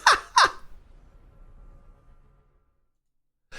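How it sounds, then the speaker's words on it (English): A seagull screams outside a window, two sharp loud calls in quick succession at the start, followed by a fading tail and then silence before another call cuts in at the very end. "that is a seagull outside of my window screaming right now"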